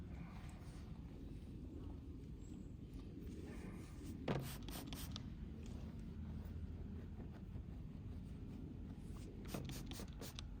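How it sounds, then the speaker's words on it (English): Faint, uneven rubbing as a magic eraser scrubs dirt off the rear of an old Chevy truck's paint, soft scraping strokes with a couple of brief louder scuffs and quiet background noise. "then go at it with the magic eraser"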